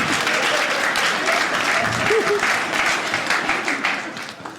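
A comedy show audience applauds, steady clapping and crowd noise filling the room and tapering off slightly at the end.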